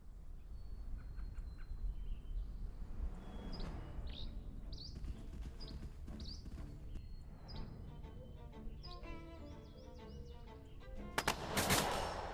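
A light machine gun fires in the hex-based squad tactics game Second Front, in irregular bursts of crackling shots over a busy bed of battle noise and chirping effects, ending in a louder, sharper volley near the close.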